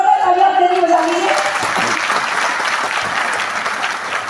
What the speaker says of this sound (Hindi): जोरदार तालियां अपने लिए बजा लीजिए।